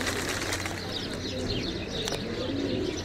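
Fancy pigeons coo inside a loft at a show of ornamental pigeon breeds, soft repeated coos and chirps layered over a constant background hum, with faint wing flutters.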